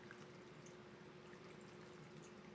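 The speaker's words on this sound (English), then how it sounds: "Now all I'm going to do is take my watering can" Water from a watering can pours onto a soil-filled pot holding a pawpaw seed, making a faint, steady splashing trickle throughout.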